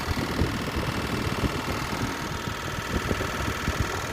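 A Carrier 3-ton ceiling-mounted air conditioner indoor unit runs with an abnormal noise, a steady, loud, close-up hum carrying a rough, rattling vibration throughout.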